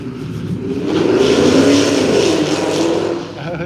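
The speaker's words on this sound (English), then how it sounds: "The big truck's revving up on Friday night." A truck or sports car engine revs hard on a Friday night street in North Houston, a sustained, rising-and-falling roar that swells loudly then eases slightly toward the end.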